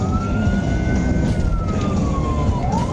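A police car siren wails during a pursuit heading toward Forest City, a steady rising-and-falling tone held loud over constant road and engine rumble, dipping sharply near the end.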